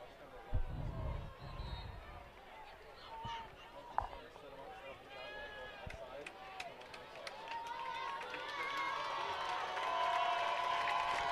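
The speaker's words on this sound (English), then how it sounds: "Crowd comes to their feet." A high school football crowd at Osseo vs Blaine, far off and faint at first, swells into louder cheering and rising hubbub toward the end, with voices and scattered sounds mixed in.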